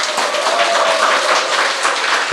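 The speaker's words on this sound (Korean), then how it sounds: "다시 한번 뜨거운 박수로" An audience at a book concert breaks into loud, dense, continuous applause after a live song, a close wash of many hands clapping steadily without any break.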